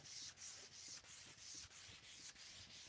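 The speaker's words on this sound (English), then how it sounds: "When you do this hand sanding, if you go in the same spot for a while, it can get pretty hot" Steady rhythmic strokes of sandpaper rubbing back and forth on wood, about three strokes per second, close and continuous with no talking.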